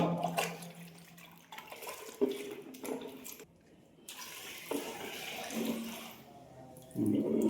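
Water sloshes and pours steadily while a paint pot from a Graco GX19 airless paint sprayer is rinsed out during cleaning, with a brief lull midway before the splashing returns louder.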